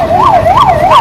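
An ambulance siren at a road accident scene involving a scooter, loud and close, wailing up and down in a smooth repeating rise and fall.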